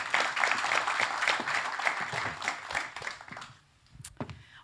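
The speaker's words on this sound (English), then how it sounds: "also a warm applaud" Audience clapping at a security summit in Finland, a steady patter that tapers off after about three seconds, followed by a few faint knocks and rustles.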